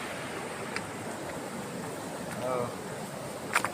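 Fast-flowing river water rushes as a steady broadband wash, loud and continuous throughout, with a few faint clicks and a brief tonal chirp near the end; no one talks over it.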